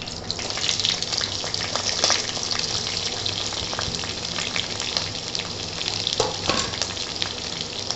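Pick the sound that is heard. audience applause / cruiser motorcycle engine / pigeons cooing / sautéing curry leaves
sautéing curry leaves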